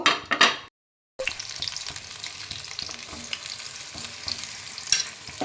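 Spiced chickpeas fry in a pan for a vegetarian chana fry, a crackling sizzle that opens loud, cuts out for a moment, then returns steady with scattered pops.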